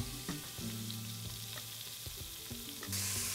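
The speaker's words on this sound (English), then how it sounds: "Now you're gonna hear the mustard seeds start to pop." Mustard seeds and cumin popping and sizzling in a hot pan: a steady fry hiss punctuated by scattered sharp pops, close and fairly quiet, with a brighter burst of sizzle near the end.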